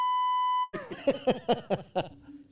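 A single loud censor bleep, a steady electronic tone held for about half a second, then cut off abruptly as a voice starts talking.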